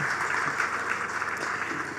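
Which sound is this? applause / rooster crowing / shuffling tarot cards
applause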